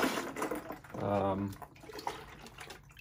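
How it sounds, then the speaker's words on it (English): Water running into a container set up for vacuum bubble leak testing of metallic floats, a brief splashing fill lasting about half a second amid quiet talk and background noise. "we're gonna fill up some water."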